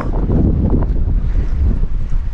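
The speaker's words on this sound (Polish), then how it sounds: "Bo naprawdę jest grubo i wietrznie." Strong wind buffets the microphone on a rocky mountain coast in Ireland, a continuous loud roaring rush with gusty swells throughout and no voices.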